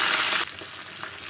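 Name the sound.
dal and peanuts frying and being stirred in hot oil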